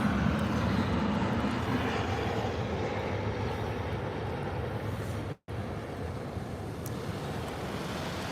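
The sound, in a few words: KLM airliner landing at Birmingham airport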